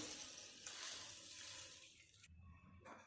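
Water splashes and swishes in a bowl as green mung beans and rice are rinsed, running steadily, then pausing briefly before another short splash.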